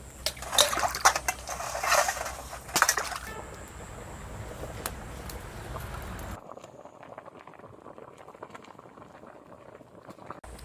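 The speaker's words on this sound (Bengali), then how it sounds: "সব পিঠে দুধের মধ্যে দিয়ে দিয়েছি। এবার একটু ভালো করে ফুটিয়ে নামিয়ে নেব।" Ice cream pitha boiling in milk for Poush Sankranti, a busy bubbling simmer with pops and splutters for about six seconds, then a much softer, quieter bubbling.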